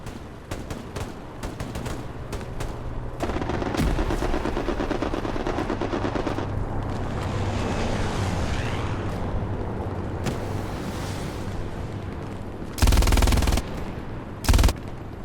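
Machine gun fire in the Hell Let Loose video game, dense rapid bursts of automatic shots running most of the clip, with a couple of louder nearby blasts toward the end and no speech.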